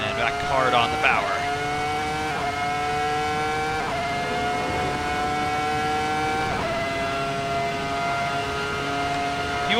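Ferrari F2004 Formula One V10 engine in a Kunos racing simulator screams at high revs, rising steadily in pitch through several gear changes with brief dips between shifts, loud and continuous while someone talks over it.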